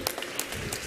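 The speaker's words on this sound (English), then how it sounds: "Let's keep clapping." Audience applause at a stock-exchange listing ceremony for BLS-E Services Limited, a steady wash of many hands clapping throughout, moderately loud and continuous.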